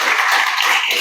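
An audience at a poetry talk applauds a guest, a loud, dense burst of many hands clapping evenly through a short moment, with no voices over it.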